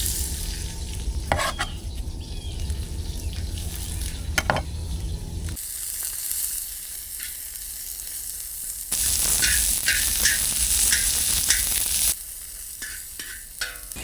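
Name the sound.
onions sizzling in olive oil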